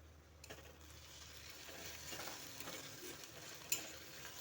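Spices with salt, turmeric, ginger and radhuni paste sautéing in a pan for a boal fish curry, giving a quiet, steady sizzle with soft stirring and one sharp metallic clink; no one speaks.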